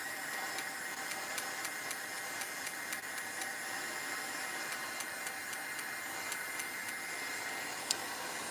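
Steady, loud blowing hiss of a heat gun running continuously, with faint clicks and ticks over the constant airflow.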